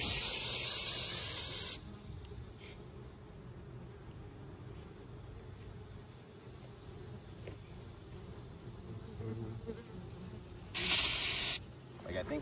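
An aerosol can sprays at ground wasps in a loud hiss for about two seconds, then again after a pause, with a faint buzzing of insects between bursts.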